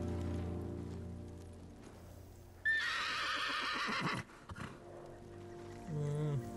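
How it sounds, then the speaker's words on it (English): Dapple horse in the samurai video game Ghost of Tsushima gives a loud, clear whinny midway, rising and fading into snorting breaths over game ambience and music, with no speech. "Dapple horse."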